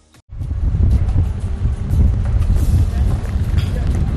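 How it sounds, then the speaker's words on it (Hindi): Strong hurricane winds roaring during Hurricane Sally, with a dense, steady rumble of wind and churning sea starting abruptly after a brief quiet moment and staying loud throughout. "सब कुछ उड़ा देने पर आमादा तेज हवाएं, समंदर में उठती जोरदार लहरें और बेतहाशा बारिश"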